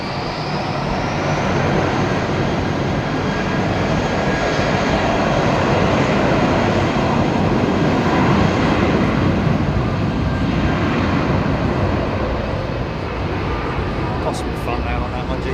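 Jet airliners departing Heathrow Airport in the evening, a steady loud roar of engines at takeoff power holding throughout, with faint voices now and then.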